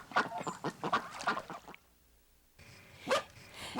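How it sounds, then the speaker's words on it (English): A duck quacks repeatedly in a quick series of loud nasal calls, falls silent for a moment, then gives one more quack nearby. "Duck."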